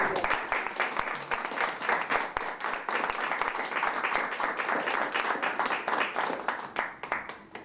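Steady applause from a small audience at a cultural association book talk, many hands clapping in a continuous, moderately loud patter lasting several seconds, with a few voices underneath.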